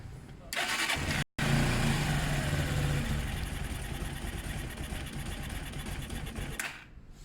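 A Zontes motorcycle engine runs at idle with the choke on, a steady close mechanical drone with a rapid pulsing beat, briefly cut out once early on, then fading away at the end.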